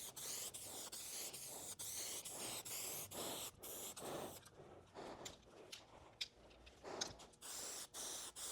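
A spray gun lays another coat of paint onto vehicle bodywork, with short hissing bursts repeating in a steady rhythm, close by and fairly quiet.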